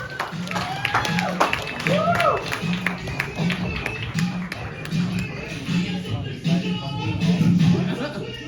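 Comedy club audience clapping for a comedian, a burst of applause with scattered voices and crowd chatter mixed in, fairly close and lively.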